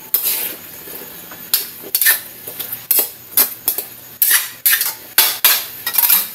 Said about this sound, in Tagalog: Haluin natin para lumasa yung ibang kanyang ingredients.